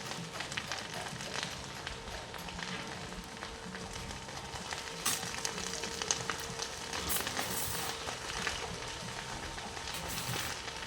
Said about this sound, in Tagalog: Ayan, malaking sunog sa damuhan.